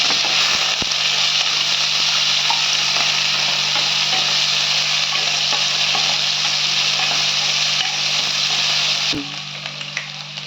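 Sliced onions with curry leaves and two green chillies sizzle steadily in a hot pan, a loud, even frying hiss with a few clinks of the spoon stirring, before the sizzle drops off near the end.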